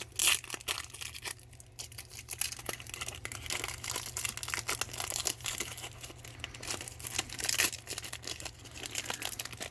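Crinkly wrapper of a packaged stick of gum from a 1980s baseball card pack being picked and torn open, irregular close crackling and rustling throughout, no talking.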